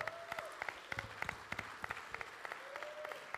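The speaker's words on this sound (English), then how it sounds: "Let's give a big round of applause for the event management company." An audience at a crypto coin launch event in Asia applauds. The clapping sounds thin and fairly distant, made of sharp repeated claps in a loose rhythm, with a faint tone lingering underneath.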